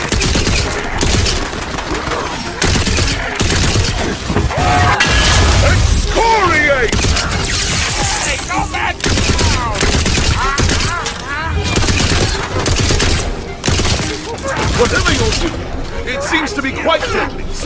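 Dense, continuous gunfire and bursts of automatic weapon fire from a fantasy shooter game, with booms and clattering effects layered over game voices throughout.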